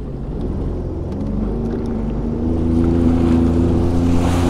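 A Sea-Doo personal watercraft runs on the water at dusk, its engine a steady close drone that swells slightly louder partway through, with no voices.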